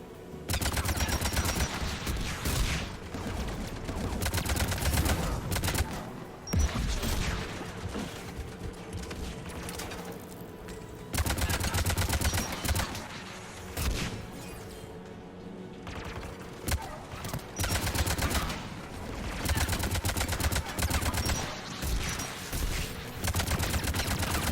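Heavy automated defensive gun batteries guarding a tower in Mass Effect 3 fire sustained bursts of rapid shots, with brief lulls between volleys, loud and continuous over game ambience.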